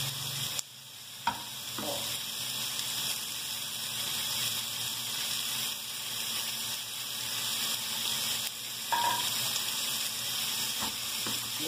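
Potatoes cooking in a pan with butter and milk give a steady, close sizzle and hiss, broken by a few soft bumps of stirring, with one brief spoken word at the start.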